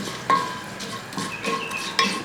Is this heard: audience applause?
no